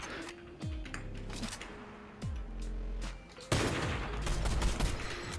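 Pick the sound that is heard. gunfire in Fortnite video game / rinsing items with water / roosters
gunfire in Fortnite video game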